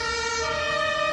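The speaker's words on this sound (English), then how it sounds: "suddenly the sound of an ambulance and commotion was heard from outside" An ambulance siren sounds as a loud, sustained electronic wail that holds steady and close for about a second.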